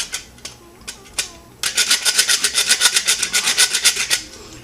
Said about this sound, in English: You do have to make sure your hands are out of the way of the rasp.